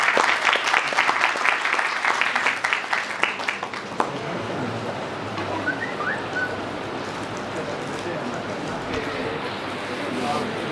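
Audience applause at an international nano science and technology workshop greets the next speaker, a university doctor, with a dense burst of clapping over the first four seconds that thins into a softer spatter and room murmur.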